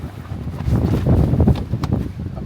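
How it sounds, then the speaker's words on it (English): Strong wind buffeting the microphone at a Hocking Hills campsite as a storm approaches, a loud, close, low rumbling roar with gusty surges and no speech. "it's very windy out right now."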